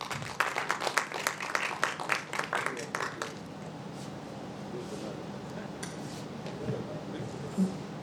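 Brief burst of audience clapping at a young achievers awards ceremony, close and lively for about three seconds before fading into a room murmur with some talking.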